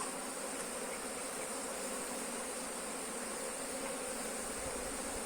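Honeybees humming inside a strong hive during cold weather, a steady, dense drone of many wings with no breaks, close and fairly soft, with no voices.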